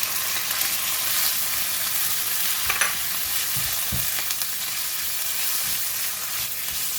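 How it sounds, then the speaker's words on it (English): Pork slices stir-fry in a pan with browned garlic, giving a steady, loud sizzle throughout, with a few clanks of a utensil stirring near the middle. "Alright, garlic is ready, nice and brown, and I'm going to put in the pork."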